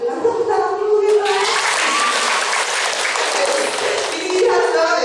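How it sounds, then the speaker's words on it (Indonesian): Students in a vocational-school grooming class burst into a loud, dense round of applause lasting a few seconds, with voices heard just before and as it fades. "Tepuk tangan dulu ya."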